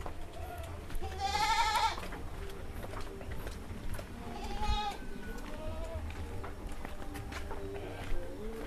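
Goats bleat in a pen on a dairy goat farm, with two wavering calls a few seconds apart, one louder and nearer, over a steady low background murmur.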